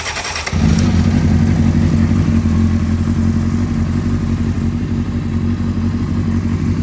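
A 2003 Honda CBR 600RR sport motorcycle's engine cranks briefly and catches, then settles into a loud, steady idle close by, with no talking over it.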